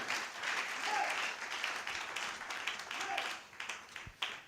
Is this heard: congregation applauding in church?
yes